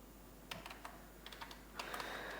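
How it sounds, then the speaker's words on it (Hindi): Typing on a computer keyboard while entering data into a PHP web project, a quick irregular run of light key clicks, a few isolated taps then a denser burst at the end, close and quiet over faint hum. "अभी मैं इसको रिफ्रेश करता हूँ, यहाँ पे लिखता हूँ काशिफ"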